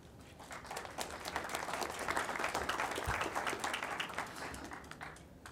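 Audience applause fills a hall at a community expo, a dense steady wash of many hands clapping together at moderate volume, swelling slightly mid-way and holding without a break for several seconds.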